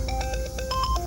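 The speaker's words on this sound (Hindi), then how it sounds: "ए, तेरा फोन बज रहा है।" A mobile phone plays a melodic ringtone of quick repeated tonal pulses, ringing steadily and fairly loud over a low background hum.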